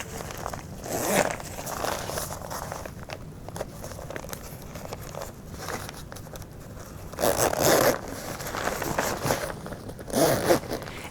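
A zipper on a LymphaPress pneumatic compression leg appliance is pulled in several bursts, zipped part way up to about knee level. The rasping strokes are close and moderately loud, with soft handling scrapes between them and no talk.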